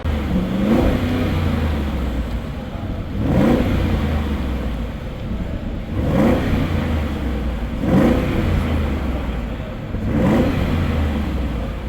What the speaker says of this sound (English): how does the V8 sound?